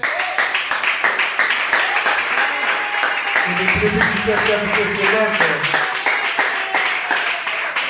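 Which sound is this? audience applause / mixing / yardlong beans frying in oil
audience applause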